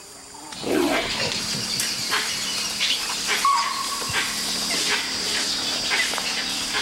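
A tiger at a water reservoir in India, confronting a leopard, gives low growls and snarls amid outdoor ambience with distant bird calls, the animal sounds rough and intermittent over a steady background.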